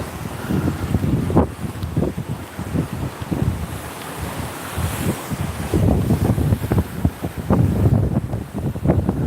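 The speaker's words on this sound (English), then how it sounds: "there's something quite relaxing about hearing the sounds of the waves crashing against the rocks" Waves crash and wash against seaside rocks at Dawlish as the tide comes in, a steady, loud roar of surf with repeated low thumping surges, all under heavy wind buffeting the microphone.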